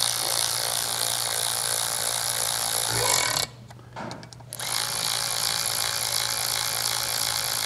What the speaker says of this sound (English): and then I'll follow it up with a ratchet